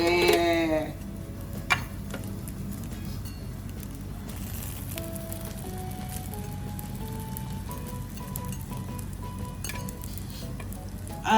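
Grilled cheese sandwich frying steadily in a pan, a continuous close sizzle with a few light clinks and scrapes as it is flipped, no talking.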